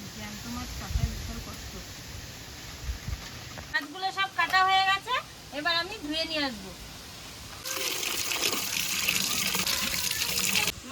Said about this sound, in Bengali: জল দিয়ে ধুয়ে নিয়েছি